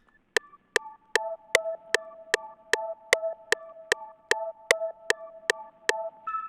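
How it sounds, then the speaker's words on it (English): An arpeggiator synth in a dark trap beat plays chord-progression notes as a steady stream of short plucked blips, evenly spaced and close, with no voices. "I have this weird like arpeggiator thing that just plays notes that are existing in the chord progression"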